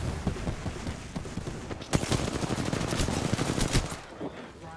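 Rapid automatic gunfire in the video game Apex Legends, dense bursts of sharp cracks building and overlapping for several seconds before tapering off.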